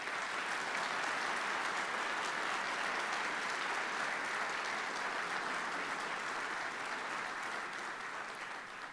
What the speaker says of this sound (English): please join me in a tremendous round of applause for Dr. Paul Zia.